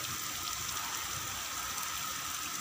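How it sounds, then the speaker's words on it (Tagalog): Continuous heavy rain pours down with a dense, even hiss, no voices, likely with wind mixed into the steady roar. "Sabayan pa ng hangin, sabayan pa ng ulan"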